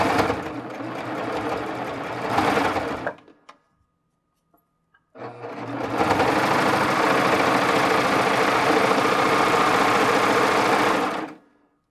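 A Baby Lock serger stitching ribbing onto knit fabric, a fast close mechanical whirr that runs for a few seconds, stops briefly with faint clicks, then restarts for a longer steady burst.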